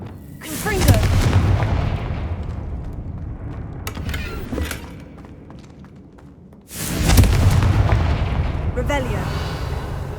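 Confringo fire spells burst in Hogwarts Legacy, two heavy booming blasts each followed by a rumbling tail, one near the start and another later, with a voice speaking over the game sound.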